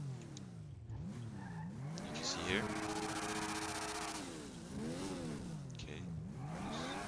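Car engine in GTA V with a manual-transmission mod, revving up and down in repeated rising and falling sweeps, with brief skid-like noise, while someone talks over it.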